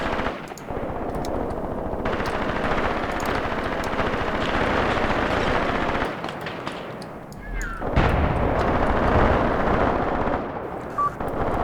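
Tank gunfire in the tactical war game Graviteam Tactics, a dense, continuous roar of heavy shooting and rumbling blasts with a brief lull partway through before resuming loudly.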